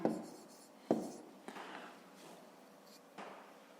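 Handwritten scribbling of a math answer on paper, a few separate strokes and taps spaced unevenly, close and soft, with no voices.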